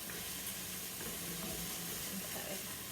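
Something sautéing in a pan while being stirred continuously, heard as a steady, dense sizzle with faint scraping movement underneath, constant in level and close by with no talk.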